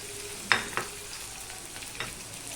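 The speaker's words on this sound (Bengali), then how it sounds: "দিয়ে দিচ্ছি কাঁচা লঙ্কা" Green chillies dropped into greens frying in a pan make a quiet sizzle, with two sharp splatters near the start and a softer stir later, close but faint, with no voices.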